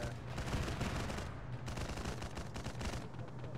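Dense gunfire in the military video game Arma 3, a rapid volley of overlapping shots and bursts sounding loud and continuous throughout.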